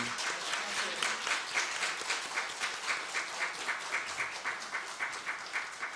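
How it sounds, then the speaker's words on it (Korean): Korean church congregation clapping together in a steady rhythmic beat, moderately close and even throughout. "박수 올려드리겠습니다."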